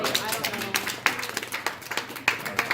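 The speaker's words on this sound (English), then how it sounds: "let's give Nate a round of applause." A small group claps for Nate after a chef's pasta dough demonstration, a sparse, uneven patter of hand claps close by, mixed with talk.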